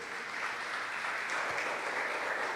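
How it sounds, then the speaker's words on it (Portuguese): A church congregation bursts into steady applause, a dense, continuous clatter of many hands filling the room at even loudness, with no voices over it. "Dê uma salva de palmas para o Senhor."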